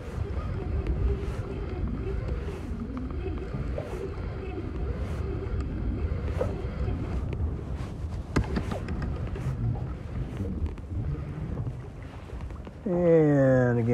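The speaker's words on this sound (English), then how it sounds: "because this wind today is like torture." Wind gusting across a lake while jigging for lake trout from a boat on Cayuga Lake, a steady loud rumbling roar filling the whole clip, with a brief rising whine near the end.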